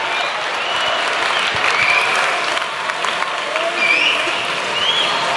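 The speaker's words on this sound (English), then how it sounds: "Give a big round of applause." A school talent show audience applauds a student band, giving loud, continuous clapping from a large crowd with scattered cheers and whoops throughout.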